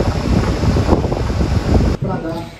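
Strong wind blowing outdoors, a loud steady roar of buffeting wind noise across the whole clip with a brief dip near the end.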